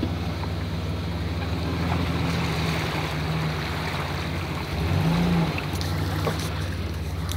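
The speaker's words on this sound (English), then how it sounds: "That's the first time that this Bronco has actually been in any sort of water" A 1986 Ford Bronco II pushes through standing water off-road, a steady loud wash of splashing and churning water with a low engine drone beneath and a brief surge near the end.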